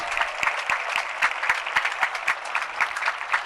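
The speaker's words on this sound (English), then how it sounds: "let us give a round of applause to all those alumni who have returned to Skyhawk Stadium" A stadium crowd at a Beaverton, Oregon high school graduation claps for returning alumni, a sustained even patter of many hands with sharp individual claps standing out, loud and continuous with no speech.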